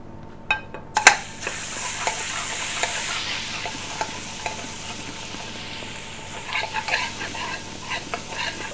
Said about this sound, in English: the pan is already quite hot, so that oil would be ready now for the